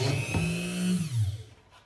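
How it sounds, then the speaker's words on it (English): A power drill boring a hole in wood, a steady whirring grind that winds down as the bit slows to a stop, close and alone. "Don't try to get this stuff off until you've stopped your drill all the way."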